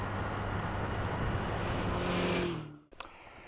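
A Kawasaki GPz 1000 B1 motorcycle engine roars at high revs toward 9,000 RPM, holding a strained whine before cutting off abruptly, followed by a brief quieter idle.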